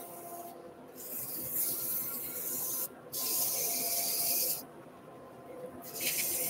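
Sandpaper rubbing a turned wooden hand mirror spinning on a lathe, held in O'Donnell jaws; steady close hissing abrasion in long strokes with brief pauses between passes, over a low motor hum.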